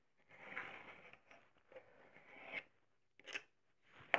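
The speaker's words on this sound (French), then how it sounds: "On va venir couper à peine, juste pour faire une ouverture dans nos enveloppes." Scissors snip a small opening into paper envelopes during a card-making craft, producing a few soft crunchy cuts and crackles up close, with brief sharper snips near the end and no talking.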